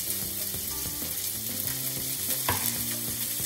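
Asparagus frying in hot extra virgin olive oil in a pan, giving a constant close sizzle with faint stirring clatter and soft background music, no voices.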